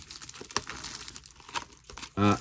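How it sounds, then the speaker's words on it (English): Cellophane wrapper peeled off a box of Field Day Baseball trading cards, with close crinkling and tearing in short bursts that end in a louder crackle. "So, we are taking off the cellophane."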